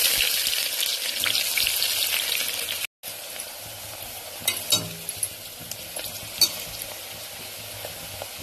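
Onions frying in a pan for hagalakayi gojju, a loud close crackling sizzle that cuts out briefly, then returns quieter with scattered spoon scrapes and clicks, no speech.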